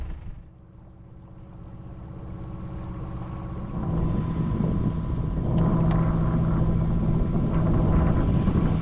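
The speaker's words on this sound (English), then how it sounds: "Motor sailing now." A sailboat motor sailing on its diesel engine, a steady low engine drone that builds over the first few seconds and then holds, mixed with water wash and wind rumble, with no voices.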